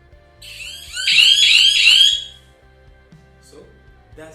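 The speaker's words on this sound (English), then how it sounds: "So that's the sound that it produces." A smart home alarm system's siren, triggered and then quickly disconnected, lets out a loud, piercing, warbling shriek for about a second and a half before cutting off, with low room hum and faint handling noise around it.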